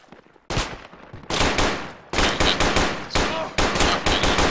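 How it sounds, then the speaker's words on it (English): Gunfire in the military shooter game Project Reality, with loud, close bursts of automatic fire in four or five separate volleys, each trailing off into reverberation, and no talk heard over the shots. "They're shooting at us."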